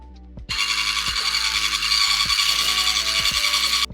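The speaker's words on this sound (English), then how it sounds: "We are going to whisk our egg whites until they form stiff peaks" Electric hand whisk beating egg whites at its lowest speed, switching on abruptly into a steady, loud buzzing whir with faint rattling of the beaters against the bowl, then cutting off right at the end.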